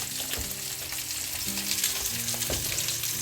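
Onions and pork belly frying in a pot for a Flemish hutsepot stew, a dense continuous sizzle and crackle with a few soft stirring knocks, close and steady throughout.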